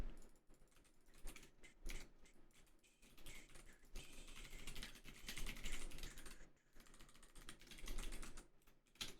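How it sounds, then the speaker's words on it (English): Continuous rapid typing on a computer keyboard, dense clattering keystrokes with brief pauses, close and steady over nine seconds with no talk. "So much fucking typing."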